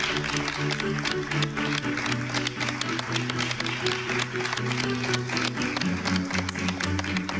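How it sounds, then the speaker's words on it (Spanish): Applause greeting guest chef Roberto Ruiz on a cooking competition final, steady dense clapping throughout with sustained musical tones underneath and a voice briefly heard. "Un aplauso, por favor."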